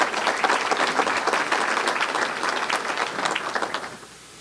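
An audience at a State of the Economy address gives a round of applause for the council, dense steady clapping that thins and fades toward the end.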